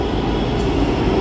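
A Pune metro train passes close by with a loud, steady, broadband rumble and rushing noise that holds throughout the short moment.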